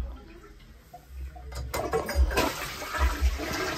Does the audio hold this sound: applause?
no